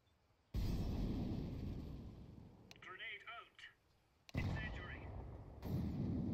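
Gunfire rings out in the video game Counter-Strike 2 as a few loud, sharp bursts. Players' voices talk in the gaps between the shots.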